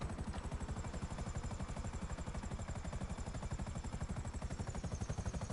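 A helicopter in GTA V flies in freemode, its rotor thumping in fast, even pulses under a steady whine, faint and continuous throughout.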